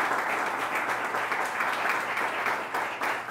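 Applause for the radio and television technicians closing a multiple sclerosis forum broadcast, a moderately quiet, continuous patter of many people clapping throughout.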